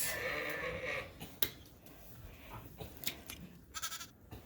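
Lambs on a sheep farm bleating in short, fairly quiet calls, several overlapping bleats against a noisy outdoor background with occasional snaps and rustles.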